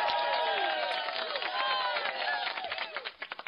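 Canned applause effect played on a radio show, a dense burst of crowd clapping and cheering that fills the clip loudly, then thins into a few separate claps at the end.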